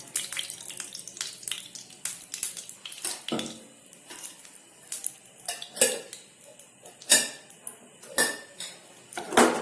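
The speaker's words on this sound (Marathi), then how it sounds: "इथे मी एका पॅनमध्ये दोन चमचे तूप टाकून घेते हे घरचं तूप आहे" A metal spoon clinks and scrapes against a pan as homemade ghee is added for carrot halwa, giving a run of sharp, irregular clatters and taps at close range with no talking.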